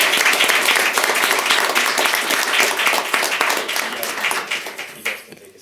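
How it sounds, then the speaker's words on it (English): A crowd at a city council meeting applauds continuously with dense, sustained clapping that gradually tapers off toward the end, voices faintly mixed in. "Another round of applause for the Salisbury."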